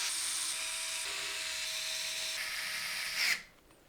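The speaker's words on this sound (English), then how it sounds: "We're then going to use 9 of the screws with a little lip around the outside to secure the motherboard to the case." Electric screwdriver driving screws to secure a motherboard into a Montech King 95 PC case, a steady close high-pitched whir for about three seconds that rises briefly, then cuts off into quiet.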